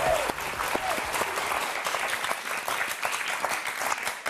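Studio audience applauding on a French TV word game show, steady dense clapping filling the room throughout without any voices.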